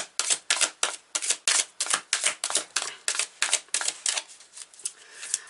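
Tarot cards are handled and drawn in a rapid run of crisp, close, papery flicks and snaps, about twenty sharp bursts in a quick, uneven rhythm, with no talk.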